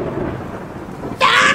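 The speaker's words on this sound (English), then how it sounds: "thunderstorms, yeah!" A tropical thunderstorm in humid Singapore, with a low rumbling wash of rain that breaks into a sudden loud, bright crack of thunder near the end.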